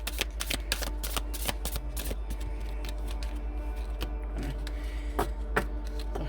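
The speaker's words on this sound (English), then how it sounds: "One more shuffle through." A tarot deck is shuffled by hand, making a fast, close run of papery riffles and flicks that continues for several seconds over a low steady hum.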